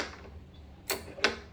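Two quick, sharp clicks from a ratchet tightening tool being turned, close and fairly faint, spaced about a third of a second apart over a low background hum.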